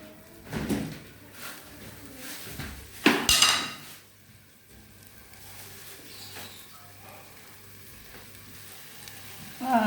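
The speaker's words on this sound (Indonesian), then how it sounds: "Sama saya goreng dulu bumbunya sampai baunya harum" Spice paste for a bamboo shoot dish sizzles quietly in a hot pan, with a few sharp clatters and scrapes of utensils against cookware around the middle, and no voices.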